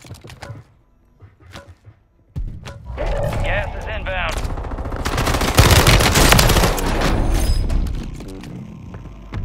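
Rapid automatic gunfire and thumping blasts in a Call of Duty match on Rebirth Island, quiet at first, then a sustained loud burst of overlapping shots with a game voice speaking over it.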